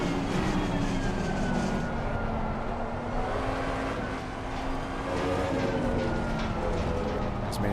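Ford Mustang GT3 engine under hard throttle in a racing game, a steady loud droning roar with slowly shifting pitch, continuous and close, without talk.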